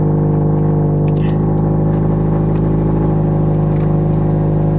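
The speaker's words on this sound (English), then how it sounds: "That sounds like it's straight piped." A loud, steady straight-piped car engine, at a dealer auction, idles and revs with a raw, rumbling exhaust tone, continuous throughout with a few faint clicks.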